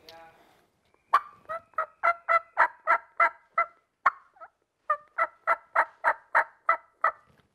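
A turkey call imitates soft hen yips: two runs of evenly spaced, clucking notes with a short pause between them, heard up close against a quiet background.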